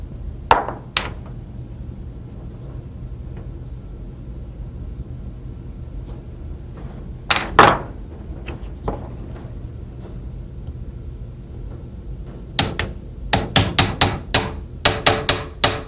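A hammer and drift tap a front sight into the slide's dovetail on a Wilson Combat 1911 pistol held in a vise: a few sharp, isolated metallic strikes, then a quick cluster of repeated close taps at the end.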